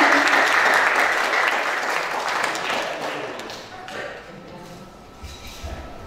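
Audience applause at an Indonesian voice acting event, a dense burst of clapping from a crowd that starts loud and gradually fades over several seconds, with a few scattered claps and thuds near the end.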